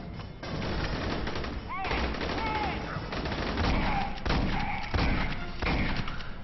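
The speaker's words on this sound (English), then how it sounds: "I like how they were shooting me through the box." Enemy gunfire in the sci-fi shooter Aliens: Colonial Marines, dense overlapping shots and thuds running steadily throughout under game music and effects.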